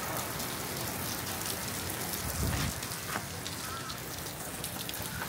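Midday rain drumming steadily on a tin roof, a dense continuous patter that stays loud and even throughout, with no voices.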